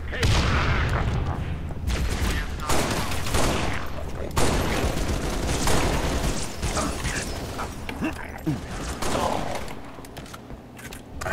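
Shotgun fire in the video game Halo Reach, played on Legendary, with repeated loud blasts and battle noise filling the whole stretch, while a player talks over it.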